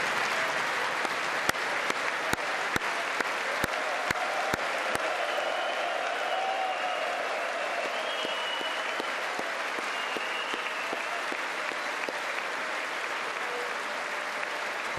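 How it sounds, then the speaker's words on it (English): A large audience at a State of the Union address applauds and cheers steadily and loudly throughout, with a few sharp claps standing out near the start. "Surprised the Democrats are cheering for a police officer."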